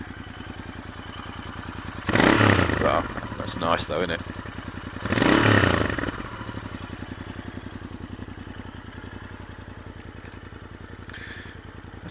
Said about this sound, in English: So let's hear that exhaust.